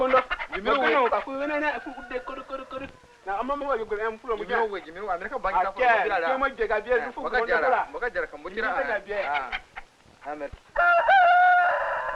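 A rooster of a superior breed crows repeatedly during a trade in an Azande village in South Sudan in the late 1960s, its calls mixing with continuous talking voices.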